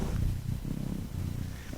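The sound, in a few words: cat purring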